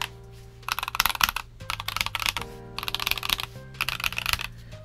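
Typing on a Hello Ganss HS75T 75% mechanical keyboard: bursts of rapid, crisp clacky keystrokes separated by short pauses, close and fairly loud over a low background hum, no talking.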